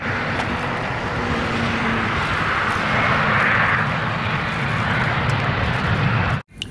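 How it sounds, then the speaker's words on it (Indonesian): Airplane engine roaring steadily and fairly loud, swelling slightly midway before cutting off abruptly near the end, with no voices over it. "Wis, pesawat terbang."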